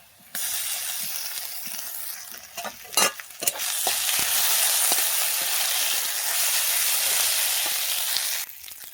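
Ginger-garlic paste hits hot oil in a pan for a Bengali prawn curry, bursting into a loud, sustained sizzle and hiss with a few clattering spoon knocks early on, then a steady fry until it suddenly cuts off.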